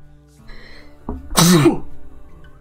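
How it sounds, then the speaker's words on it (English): A single sharp sneeze bursts out after a short intake of breath, close and loud, with nothing else around it. "had to sneeze."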